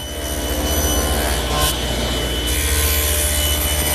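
A saw cuts a tenon shoulder in a wooden workpiece guided by a miter gauge set at 30 degrees, giving a steady, close, continuous buzzing rasp that holds for the full few seconds without talk.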